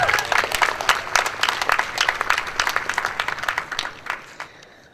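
Audience applause at a Grade 8 graduation ceremony, a dense patter of many hands clapping steadily at moderate volume before tapering off near the end.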